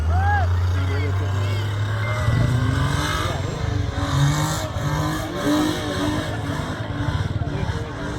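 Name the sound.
jeep engine revving at Cholistan jeep rally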